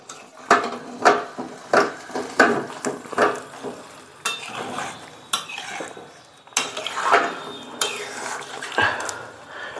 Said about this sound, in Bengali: তো চলো এই জল দিয়ে দিলাম, একটুখানি নেড়ে দিয়ে মাংসটা আবার আমি কিছুক্ষণ ঢেকে রাখবো।